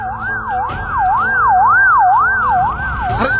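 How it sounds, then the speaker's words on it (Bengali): An ambulance siren wails in a smooth rising-and-falling sweep on a road, close and loud, cycling steadily several times over low traffic rumble, with no one talking. "আরে আরে অ্যাম্বুলেন্স, কোনো দুর্ঘটনা ঘটছে নাকি?"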